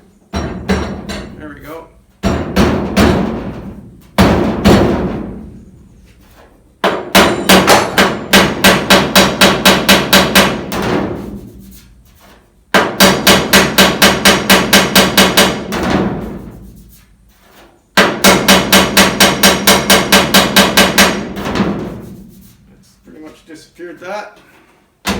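A 1976 Ford crew cab truck has a body dent hammered out with a body spoon, loud metallic hammer blows in rapid rhythmic bursts of many strikes each, separated by short pauses, with someone speaking briefly.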